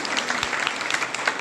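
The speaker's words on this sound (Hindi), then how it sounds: "एक बार जोरदार तालियों के साथ माननीय विधायक जी का" Audience applause in an assembly hall at a junior high school teachers' association convention in Almora: a brief, dense burst of many hands clapping loudly and evenly.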